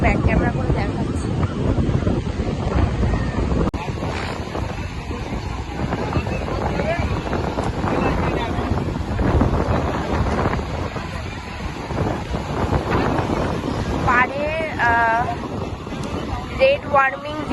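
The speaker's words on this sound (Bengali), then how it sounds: "এত সুন্দর হাওয়া, ঢেউগুলো অনেক বড় বড়" Strong wind buffets the microphone at a beach with big sea waves, a steady roaring wash of surf and gusts throughout, with people talking over it.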